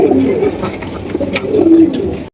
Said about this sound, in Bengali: কবুতরটা খুবই ভদ্র হাত দিলেও কিছু কয় না